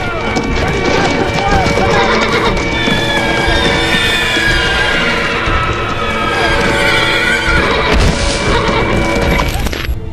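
War cavalry horses from the First World War, unused to saddles, neigh and whinny repeatedly over clattering hooves and crashing battle noise, with a continuous dense din throughout.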